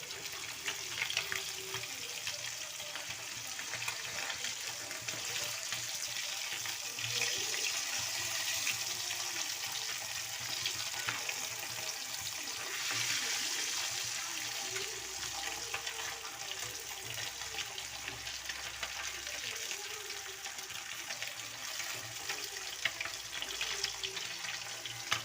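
Sardines frying in a pan give off a steady, even sizzle, a dense hiss of hot oil that holds at moderate loudness throughout with no voices.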